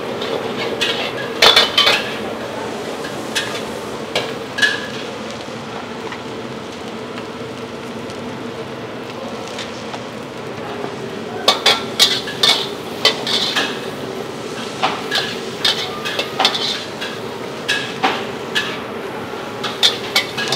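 Bean sprouts and chili stir-fried in a wok, a steady sizzling hiss under repeated sharp metallic clanks and scrapes of a spatula against the pan, coming in irregular bursts and clusters.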